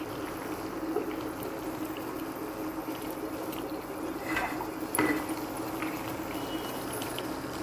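Curry with green chillies simmering in a pot, a soft steady bubbling and gurgling hiss that runs throughout at low level, with a couple of slightly louder pops partway through and no talking.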